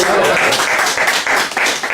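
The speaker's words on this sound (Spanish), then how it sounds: "Un aplauso, por favor, entre nosotros mismos." An audience at a gathering applauds one another, a dense burst of clapping that swells and pulses, with voices and cheering mixed in.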